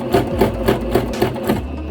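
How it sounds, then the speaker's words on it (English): A sewing machine stitches with a guided presser foot, running fast, loud and close in a steady, rapid mechanical rhythm of about four stitches per second with no talk. "And then I just start sewing, and it's gonna guide it."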